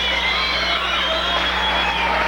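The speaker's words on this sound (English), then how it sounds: "A big round of applause, please, for John Souhtivong." A crowd applauds and cheers steadily at the introduction of a bantamweight boxer before a 1986 five-round bout. The roar is dense and continuous, loud throughout, with no clear individual claps.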